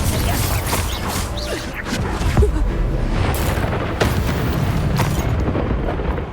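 A Confringo fire spell explodes in Hogwarts Legacy, a dense burst of booming blasts and crashing debris under continuous game action and music, with heavy impacts recurring through the scene.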